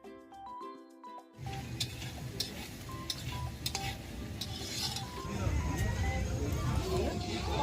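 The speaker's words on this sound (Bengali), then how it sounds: "আমি এদিকে ফুলকপিটা কড়াইয়ে তেল দিয়ে দিলাম" Cauliflower fries in oil in a wok, a soft sizzle with utensil scrapes and light clinks that follows a quiet opening; a person talks over the cooking.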